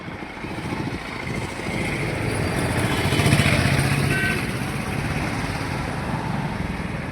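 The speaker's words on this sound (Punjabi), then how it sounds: "ਹੁਣ ਡੈਡੀ ਚਲਾ ਰਹੇ ਨੇ ਸਕੂਟਰੀ" A scooter ridden along a road with a man at the handlebars, its small engine humming steadily and close alongside passing traffic noise, with no talk.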